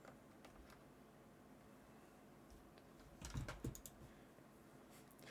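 A computer keyboard knocked off a desk lands with a brief, sharp clatter partway through, in an otherwise quiet room with faint background hum.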